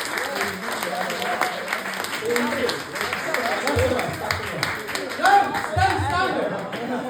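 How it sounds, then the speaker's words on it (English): Sustained audience applause in a small live venue for three men standing up, dense clapping with cheers and chatter from the crowd mixed throughout. "Give a big round of applause for these guys."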